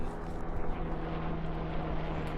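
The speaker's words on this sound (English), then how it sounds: "We have a plane." An airplane drones overhead at a city riverfront park, a steady, continuous engine hum with a low tonal drone that holds level throughout, no talking.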